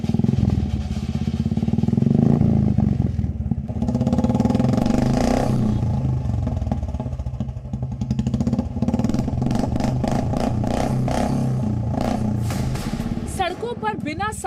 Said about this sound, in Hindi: साइलेंसर वाली बाइकों की आवाज आपको भी परेशान करती है?